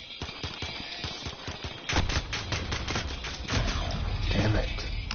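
Rapid pistol shots from a PS4 shooter game ring out in a quick run of sharp cracks, joined after a couple of seconds by heavier gunfire and a low rumble, with some voices mixed in.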